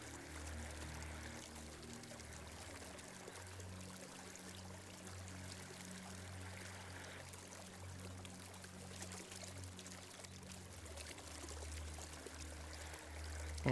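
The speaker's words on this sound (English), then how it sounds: "you can hook your awareness to the water sound." Water flows steadily in a river under an open sky, a continuous soft rushing and trickling with a low hum beneath, calm and unbroken throughout.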